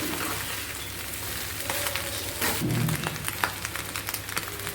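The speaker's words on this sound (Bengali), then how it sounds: "এখন একটুখানি দম কমে এটা একটু হালকা করে ভাজা হোক" Jeera rice, rice with cumin, fries gently in a pan over lowered heat, giving a steady close sizzle with light crackles and an occasional stir.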